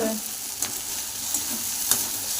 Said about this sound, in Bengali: এদিকে হচ্ছে ভেন্ডি ভাজা হচ্ছে এই ভেন্ডি এই ঢেঁড়স ভাজা হচ্ছে